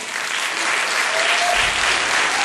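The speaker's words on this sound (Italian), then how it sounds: "e qui un applauso" Theatre audience at the Cine Teatro Elio in Calimera breaks into loud, dense applause for the author of a staged play, steady and close throughout with no talking over it.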